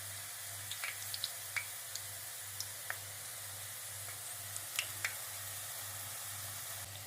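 Zucchini flower fritters fry gently in oil, a soft continuous sizzle with scattered small pops and crackles over a low steady hum, no voices.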